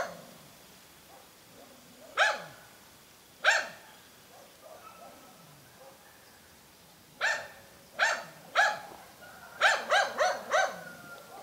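A dog barks in bursts beside a fishing pond where anglers are after crucian carp: two single barks, a pause, then a fast run of loud, close barks, with faint movement in the gaps.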